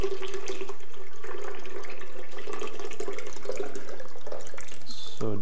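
Vegetable stock poured into a measuring cup, a steady loud liquid stream with splashing and gurgle that ends with a brief knock as the pour finishes.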